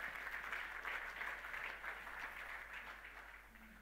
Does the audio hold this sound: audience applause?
yes